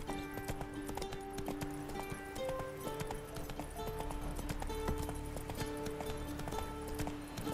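Horse hooves clip-clopping steadily as Roach gallops in The Witcher 3, a continuous rhythmic stream of close, loud hoofbeats with game music and ambience layered underneath.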